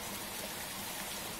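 Continuous rain in a children's Pocoyo weather playset, a uniform washing patter like water streaming down, holding at one level for the whole stretch with no talking.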